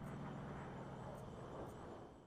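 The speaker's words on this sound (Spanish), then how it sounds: "Ah, no, es el hidroavión." A seaplane engine in the video game Far Cry 5 gives a faint, continuous propeller drone that stays level, then eases slightly toward the end, with no talking.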